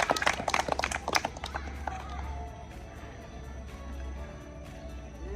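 Students in a physical education class clap for a classmates' group, a short burst of sharp, close claps at the start that quickly thins out into quieter room noise.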